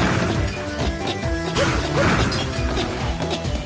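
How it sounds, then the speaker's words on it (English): Model F's special punch in the video game Megaman ZX smashes objects, giving dense, loud crashing and whacking impacts over busy game music, with a few heavier hits near the middle. "Model F can do a special punch, and it breaks stuff."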